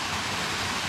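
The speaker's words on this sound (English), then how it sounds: "This is the waterfall just here." Edith Falls in Litchfield National Park pours as a steady, even rush of falling water, close and unbroken for a brief moment.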